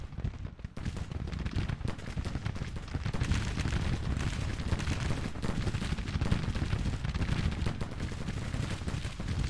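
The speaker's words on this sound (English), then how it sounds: "It says no guns, but they're still firing their cannon" Continuous dense battle noise from a Grand Tactician: The Civil War game, with cannon and massed gunfire booming and crackling without pause, loud and rumbling throughout.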